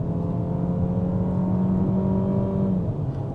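The turbocharged engine of a Peugeot 5008 seven-seat front-wheel-drive SUV hums steadily from inside the cabin, a low continuous drone with faint tonal whine that rises slightly in pitch as it pulls, climbing a wet hill road.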